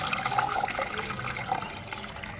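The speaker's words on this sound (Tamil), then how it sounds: "இது போல் நல்லா தண்ணி விட்டு விட்டு அலசி எடுக்கணும்." Water splashes and runs steadily as soaked urad dal is rinsed by hand to loosen the skins, a continuous close gushing and sloshing with no talk.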